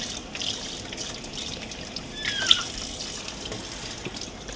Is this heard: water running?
yes